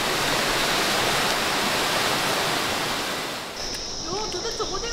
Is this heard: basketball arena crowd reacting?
no